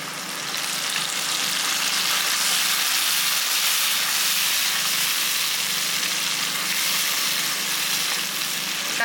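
Tomato juice sizzles steadily in hot oil in a pan while a Tamil kuzhambu cooks, a loud, dense frying hiss holding evenly throughout with no voices.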